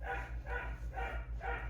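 A dog barks four times in an even rhythm, fairly faint, over a constant low hum.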